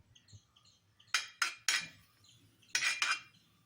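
A metal pan set on the stove for ghee gives several sharp clanks and clatters in two quick groups, close by in a quiet kitchen.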